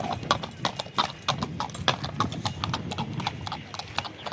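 Horse hooves clip-clop steadily on the ground at the Yeola horse market, a quick, uneven run of sharp, close knocks with a low murmur of background noise and no talk.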